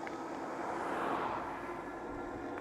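Himiway A7 dual-suspension electric commuter bike accelerating on throttle alone, a steady broadband whir and wind rush that holds at a constant level throughout with no voices.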